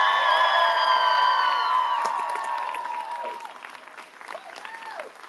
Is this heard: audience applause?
yes